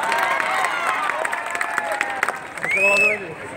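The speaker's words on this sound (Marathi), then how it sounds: "एकदा आपल्यासाठी स्वतः टाळ्या हो द्या" A crowd claps together at a talk on the constitution. The sustained applause is mixed with tonal voices or music, and it swells near the end before thinning out.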